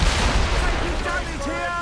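Ship cannons boom in a naval battle in Assassin's Creed Rogue, with heavy rumbling blasts at the start. Crew shouts overlap the gunfire.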